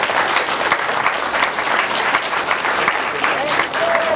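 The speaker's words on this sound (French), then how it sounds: "je vous demande d'applaudir très fort Alain Prieur" Audience applauding Alain Prieur at a 1990 Sisteron motorcycle endurance event, a dense, steady wash of clapping held at an even level throughout, with a faint voice near the end.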